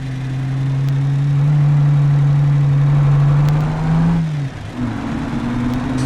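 Steady car engine drone in BeamNG while hauling a trailer at gentle RPM, a loud low hum holding pitch, dipping briefly near the end before settling again, with no talking.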